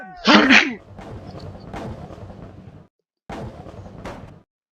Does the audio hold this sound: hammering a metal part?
no